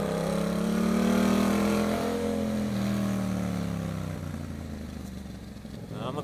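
Yamaha MT-07 motorcycle climbing the Serra do Rio do Rastro mountain road in Santa Catarina, its engine droning steadily at a near, fairly loud level with pitch rising and falling through the gears, then easing slightly toward the end.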